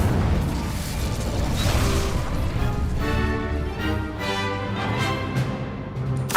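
Incendio fire spell blasts from the Hogwarts Legacy video game, a dense run of loud crashing bursts and booms one after another, filling the whole stretch with little pause.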